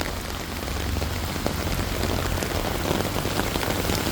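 Heavy rain with hail pounds a surface in a steady, dense roar, with scattered harder hailstone impacts mixed into the constant downpour.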